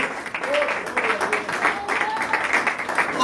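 Church congregation applauding in praise during a worship service, a dense steady wash of clapping with a raised voice and some cheering over it, sustained and fairly loud throughout.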